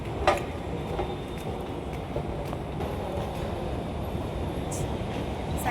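Interior of a Bangalore metro train near Electronic City, a steady low rumble with a continuous rolling noise and a few faint high squeaks, fairly constant throughout.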